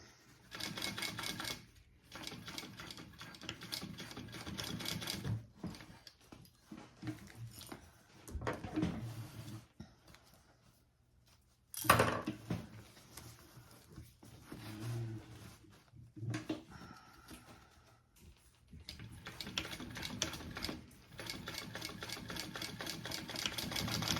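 A sewing machine stitches rows across an embroidered Halloween crossbody bag in several close, rapid bursts, separated by short pauses and a sharp click, with no voices.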